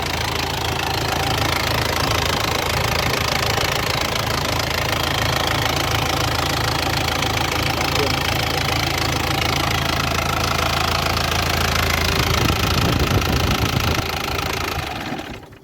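A used pickup truck's engine runs steadily up close, a loud, continuous rattling diesel-like knock with constant vibration that holds for about fourteen seconds and then cuts off abruptly.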